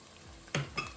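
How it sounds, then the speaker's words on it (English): Chopped onions and garlic sautéing in a pan, heard as a brief, faint sizzle broken by two quick stirring scrapes about a quarter second apart. Close and quiet, with no speech. "After 2 minutes of letting the onions and the garlic saute"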